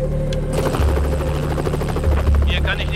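A rescue helicopter drones steadily at close range, its low rotor thump and turbine whine filling the whole stretch while someone speaks over it.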